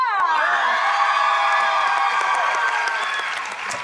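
A loud burst of studio audience cheering and applause on a French TV show, shrill whoops over steady clapping, holding strong for a few seconds.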